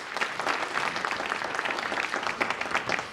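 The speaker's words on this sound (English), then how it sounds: "Let's give her a round of applause." Audience applause at a panel discussion on robots and jobs, a steady dense wash of clapping from a crowd for about three seconds with no talk over it.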